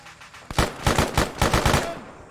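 A burst of rapid, rhythmic gunshots in an Arma 3 Vietnam-era battle for Hamburger Hill, about eight close, evenly spaced reports firing after a brief quiet lead-in and fading at the end.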